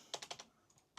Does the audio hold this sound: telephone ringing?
no